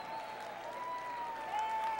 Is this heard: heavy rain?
no